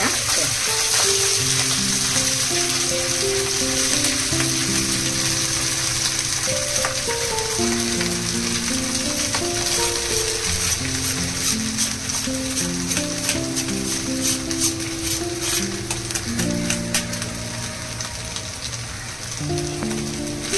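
Half-cooked rice sizzles and crackles in a hot pan with curry leaves, a dense continuous frying hiss close by with music playing underneath throughout.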